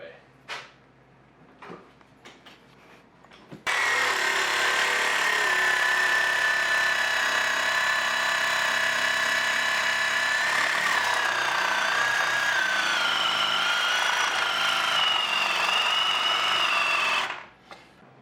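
Sawzall reciprocating saw cutting through a worn leaf spring on a C6 Corvette, a loud continuous buzzing grind lasting about fourteen seconds, with brief handling clatter before and after.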